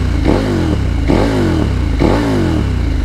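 A 2021 KTM Super Adventure S with an Arrow Sonora exhaust and the baffle removed revs three times in quick succession, each sharp, loud blip falling away in a raspy burble, close by.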